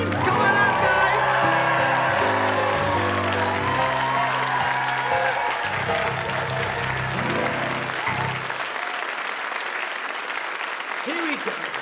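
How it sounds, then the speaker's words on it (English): A theatre audience applauds and cheers a comedy cast at the curtain call of an afternoon performance. The clapping is loud and sustained, with a voice speaking and tonal sounds over it through most of the stretch. "That applause flowing for our dynamic, our fantastic Mischief cast for this afternoon."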